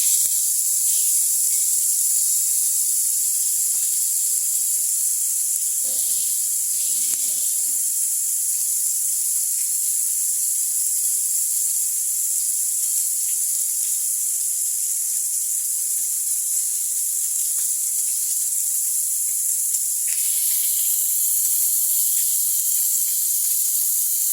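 Fish coated in turmeric, chili and salt fries in hot oil, giving a continuous bright sizzling hiss that holds steady for the whole stretch with no talking.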